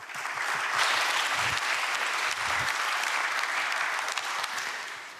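An audience applauds at a government committee public report event, a dense sustained burst of clapping from many hands, loud and steady before easing slightly at the close.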